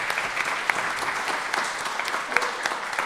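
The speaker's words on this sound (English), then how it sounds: "If you can join me in a round of applause for our sponsor for making this possible." A candidate forum audience gives a round of applause for the event's sponsor, a moderate, even spread of clapping with occasional sharper nearby claps and faint voices underneath.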